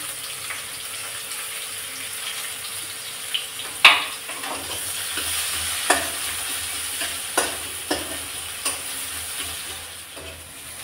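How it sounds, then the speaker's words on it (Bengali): Onions and chilli stir-fry in oil in a pan for a Bengali fish dish, giving a steady close sizzle with scattered scraping clicks of a spatula throughout, no voices. "পেঁয়াজটা ভাজা ভাজা হয়ে গেছে,"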